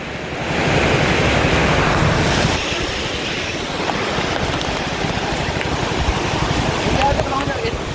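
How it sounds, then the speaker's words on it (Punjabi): Rushing floodwater after heavy monsoon rain pours over a small culvert bridge near a school in Pathankot, a loud, steady roar of churning water with wind buffeting the microphone and people talking over it. "ਪਾਣੀ ਬਹੁਤ ਜ਼ਿਆਦਾ ਤੇਜ਼ ਆ"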